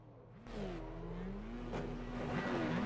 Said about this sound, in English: I can now hear the revs of the cars